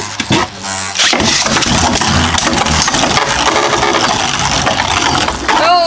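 Beyblade Burst Turbo tops, including Fornius F4, are launched into a stadium and battle there, producing a loud continuous whirring and clattering roar after a brief ripping launch, then sustained spinning collisions.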